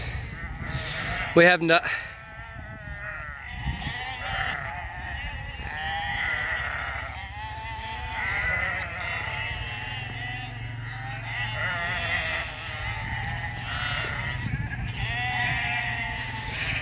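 Sheep and lambs bleat repeatedly, close and far, on a mountain farm after the lambs are taken from their ewes, with a loud burst near the start and people talking over the calls.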